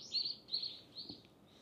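Birds chirp in short repeated high tweets on a city street in Busan, South Korea, fairly faint against a quiet background.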